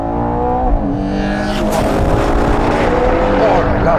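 A Ferrari Purosangue engine revs hard as the car drives fast, the pitch climbing through the gears with a sharp shift and a loud, rasping roar, and a voice speaks over it.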